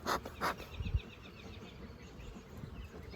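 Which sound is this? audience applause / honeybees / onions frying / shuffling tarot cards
honeybees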